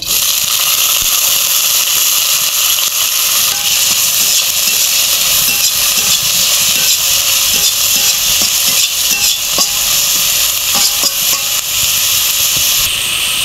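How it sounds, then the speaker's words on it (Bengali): Potato peels fry in a little oil in a pan, a constant close hissing sizzle that holds steady throughout with faint crackles scattered along. "আমি একটু তেল দিয়ে খোসাগুলো ভেজে নেব"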